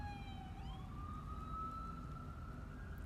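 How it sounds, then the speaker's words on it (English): An ambulance siren wails past at a distance, its rising and falling tone sliding gradually over a steady low rumble of background noise, with no talking. "As an ambulance goes by."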